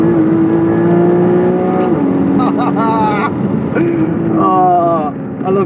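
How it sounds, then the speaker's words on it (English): A 2012 Porsche Boxster S with its flat-six engine, a loud, close, sustained drone whose pitch holds and then steps between gears as the car accelerates, with talk over parts of it. "Flat 6 just sounds so good. It's like you can hear every single explosion of the piston head."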